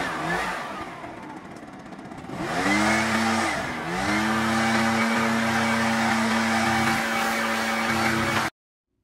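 A leaf blower clearing grass clumps off a mowed lawn, a steady close roar that swells and dips as it throttles up, running continuously before cutting off abruptly at the end.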